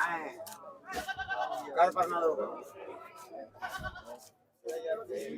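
A goat bleats in wavering cries close by at the Tungwali goat market, mixed in with people talking.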